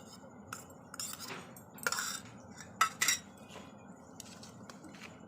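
A spoon clinks and scrapes against a bowl while dough ingredients for yogurt paratha, including ghee, sugar and curd, are mixed together, a few quiet sharp taps over soft background hiss.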